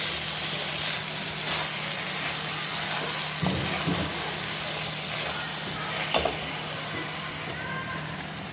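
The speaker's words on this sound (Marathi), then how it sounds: "इथे काजू बदामचे काप टाकून द्यायचे आहेत आणि छान हलवून घ्यायचे आहे." Carrot halwa with sliced cashews and almonds being stirred in a pan, a steady frying sizzle with soft scraping strokes and a couple of sharper clinks, no talking.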